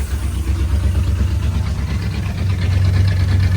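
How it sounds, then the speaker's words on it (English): A 1971 Ford F250 engine idles steadily and close by, a continuous low rumble with an even pulse and no voices over it. "It's actually running pretty good though. Turn down the idle a little bit better."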